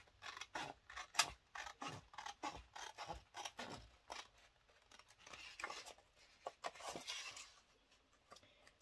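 Small scissors snip paper for a scrapbook album, a series of quick, close, crisp cuts in an irregular rhythm, followed by softer rustling of paper.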